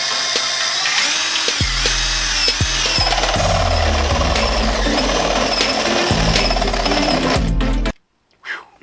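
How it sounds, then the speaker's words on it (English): A drill bores a 3/4 inch hole through the plastic hull of a FeelFree Lure kayak, a loud, continuous whirring grind with shifting pitch for about eight seconds, then stops, followed by a brief faint noise. "right here's where I'm going to drill the hole. And it is going to be a 3/4 inch hole."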